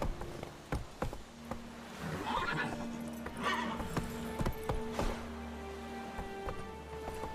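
Roach, a horse in The Witcher 3, neighs and whinnies over a clip-clop of galloping hooves, with scattered thuds and game ambience around the fairly quiet, close calls.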